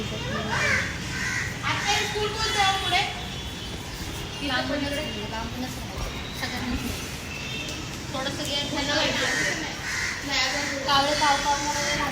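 Crows caw repeatedly outdoors, their harsh calls rising over a busy background of children's voices and general chatter.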